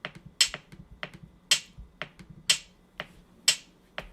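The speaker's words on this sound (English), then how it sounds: "here is the higher pitch drum, the snare." A snare drum loop built in Soundtrap plays alone, crisp sharp hits repeating in a steady pattern about twice per second, with softer ghost taps and a low kick thudding underneath.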